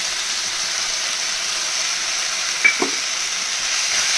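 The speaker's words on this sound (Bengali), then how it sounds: "আবার কিছুক্ষণ কষিয়ে নেব ভালো মতন" Vegetables sauté in a pan with a paste of ginger, cumin, coriander and green chili, giving a steady close hiss with one brief utensil clink partway through, heard alone.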